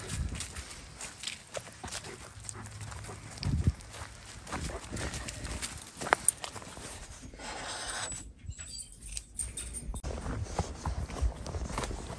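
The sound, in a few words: horse hooves clip-clopping while riding through woods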